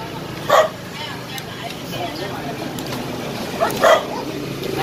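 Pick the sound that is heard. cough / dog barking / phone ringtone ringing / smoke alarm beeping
dog barking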